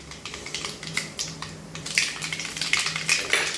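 Mustard seeds spluttering and popping in hot oil in a heated kadai for aval upma, a close, irregular stream of sharp crackles and pops without talking.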